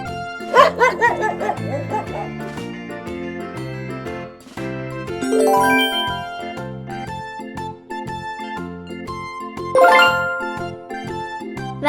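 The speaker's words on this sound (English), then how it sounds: "Dog." A dog barks in a few spaced bursts against bright jingling, tinkling music, the barks loud and close in a children's farm animal sounds sequence.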